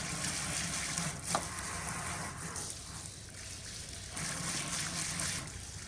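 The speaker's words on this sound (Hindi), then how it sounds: "अब आपको अपनी कटिंग को भरपूर पानी देना है।" Water pours steadily into the pot of a roselle hibiscus cutting being grown as bonsai, a continuous close splashing trickle with slight swells.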